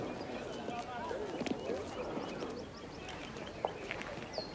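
Horses clip-clop with scattered hoof steps under steady outdoor background noise and murmured speech, moderately near and fairly faint.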